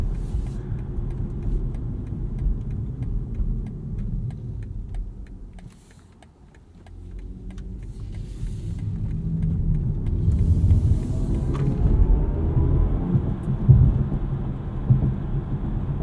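A 2023 BMW i4 eDrive40 electric car accelerates in sport mode with a low, rumbling whirr that swells in volume after a brief dip, building into a steady electric hum with road noise.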